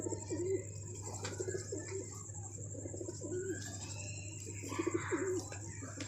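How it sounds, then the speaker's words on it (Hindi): A female pigeon coos in repeated soft phrases, low and close, over a steady low hum and faint background chirps, with no speech. "ये कबूतरी है"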